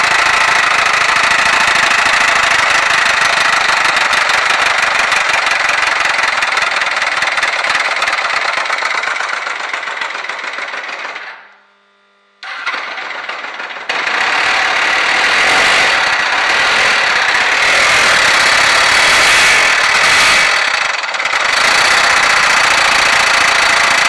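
A repossessed Suzuki GS 500 motorcycle engine runs loud and close with a harsh, rapid knocking clatter, cutting out briefly midway before firing back up and carrying on steadily, with no talking.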